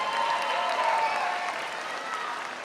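A commencement crowd applauds faculty and staff at a 2019 spring college graduation ceremony, sustained dense clapping filling a large hall at moderate distance, with a faint murmur of voices mixed in.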